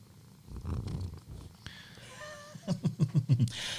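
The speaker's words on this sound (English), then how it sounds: "Sorry for all those who can hear the cat purring." A cat purrs faintly in a quiet room, with soft rumbling that grows into several louder, rhythmic purr pulses near the end.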